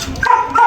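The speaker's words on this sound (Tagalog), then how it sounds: "Init ang aso, nakikita niya." A dog barks twice in quick succession outdoors, with a faint background murmur.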